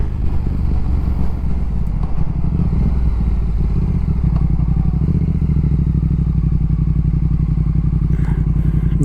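A Triumph Speed Twin motorcycle with a Tec exhaust rumbles steadily at close range on a freeway ride, its engine drone loud and continuous under rushing wind noise.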